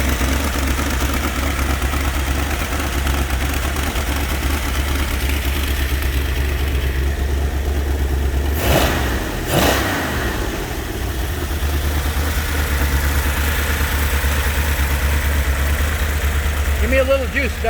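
A Plymouth Hemicuda engine with its original fuel pump, distributor and carburetors idles after sitting for 20 years, a loud, steady low rumble throughout with a brief swell in the middle and people talking over it.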